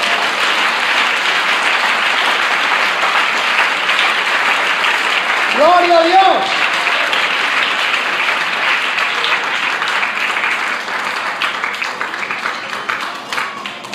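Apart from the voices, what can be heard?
congregation applause in church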